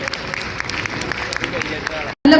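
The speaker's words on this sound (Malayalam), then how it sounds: "ഒരു നല്ലൊരു കയ്യടി വേണ്ടേ?" Applause for a newly married couple at a wedding reception in Palakkad, a steady crowd clapping with speech babble that cuts off near the end before a loud burst.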